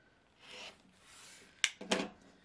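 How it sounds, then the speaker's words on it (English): Fabric quilt-block corner trimmed off: soft rubbing and rasping of the cloth, then two quick, sharp snips close by, faint and quiet with no talk. "Then you're just going to trim off that corner."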